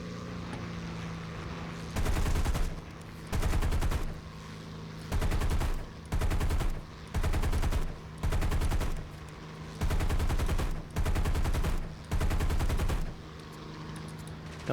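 Aircraft machine guns fire in the War Thunder combat game: about nine loud, short bursts of rapid fire separated by brief pauses, over a steady engine drone.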